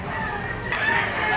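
A young rooster (stag) crowing at the Lipa auction market, one fairly faint crow rising out of a busy background hum of other birds and market noise.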